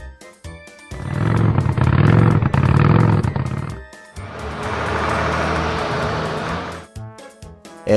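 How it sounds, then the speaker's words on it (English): A baggage truck engine growls loudly in two sustained stretches, the first rough and throaty, the second a steadier, smoother rumble, with a quiet pause before and after. "Baggage truck."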